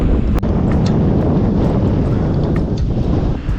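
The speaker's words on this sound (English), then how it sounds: "Yeah, it's a bit windy." Steady, loud wind buffeting the microphone, a continuous roaring rush with a few faint clicks, no voices.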